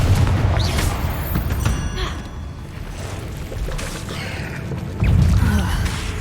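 A Confringo blasting spell explodes in a Harry Potter game, with booming bursts and crashing impacts near the start and again near the end over a rumbling background.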